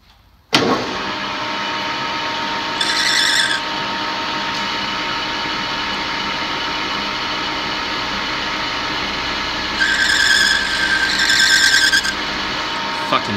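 A lathe machining an ATI pulley runs with a steady mechanical drone, while a high-pitched chattering squeal from the tool rises in short bursts early and again near the end.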